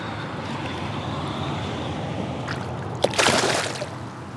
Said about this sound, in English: he's gonna make sure he splashes me real good on the way out